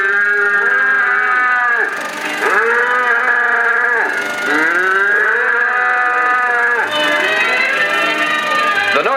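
Beef cattle on North Dakota grassland moo loudly and repeatedly, several long drawn-out calls overlapping one another close by, with narration from a 1959 film running through.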